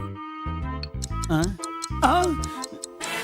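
Comic ticking effect for a heart beating like a wristwatch in a Telugu comedy scene, a steady tick-tock woven through light music and voices.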